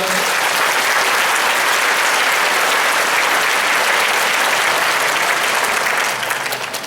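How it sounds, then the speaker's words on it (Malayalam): A church congregation claps together in praise, a dense, steady wall of applause that fills the room and holds for several seconds before easing off slightly at the end. "നമുക്കൊന്ന് കൈയടിച്ച് കർത്താവിനെ മഹത്വപ്പെടുത്താം"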